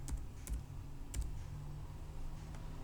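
Keys on a computer keyboard tapped while entering a VLOOKUP formula in Microsoft Excel, a few sharp, separate clicks spaced irregularly over a low steady hum, fairly quiet and close.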